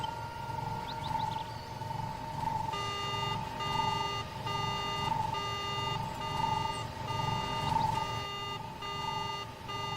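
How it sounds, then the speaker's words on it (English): A speeder's alarm blares in Star Wars: Knights of the Old Republic, a repeating electronic beeping pattern with steady pulses, looping loudly over a low game ambience. "Let's just slice into the speeder and activate its alarm system."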